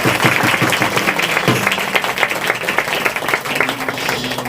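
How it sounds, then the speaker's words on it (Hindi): A church congregation at a Christian worship service breaks into loud, sustained applause as a guest is welcomed onto the stage. The clapping is dense and continuous from start to finish and sits close to the microphone. "जोरदार तालियां।"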